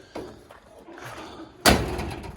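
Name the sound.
door of 1950 International rat rod truck closing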